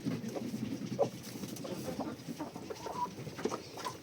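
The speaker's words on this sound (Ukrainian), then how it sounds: "Так, це мої курочки" Backyard hens clucking close by in a pen, a steady stream of soft, overlapping clucks and short croaks with a few louder calls, no speech.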